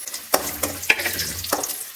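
Onions and garlic sizzle in hot oil while a spoon stirs and scrapes the pan a few times, the sizzle steady and close.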